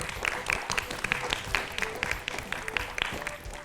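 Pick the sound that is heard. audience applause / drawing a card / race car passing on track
audience applause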